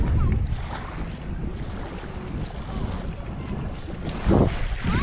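Strong wind at Rara Lake buffets the microphone with a continuous rumbling roar and louder gusts, particularly near the end.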